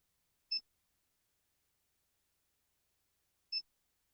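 Two short electronic beeps, about three seconds apart, each a brief high double tone against silence.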